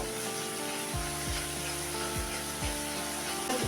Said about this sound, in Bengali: এবার আমি একটু আদা রসুনের কাঁচা গন্ধটা যাওয়া পর্যন্ত আমি এরকম নাড়তে থাকবো।